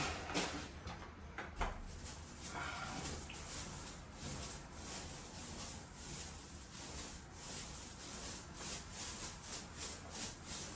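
A paint roller rolls primer across repaired drywall near a baseboard, a soft rhythmic rubbing and sticky swishing in repeated strokes, fairly faint and close, with no talk.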